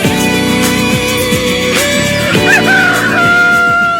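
A rooster crows loudly and close up on a Brazilian AM radio show, one long drawn-out cock-a-doodle-doo stretching across several seconds with clucking fowl sounds mixed in and no talk over it.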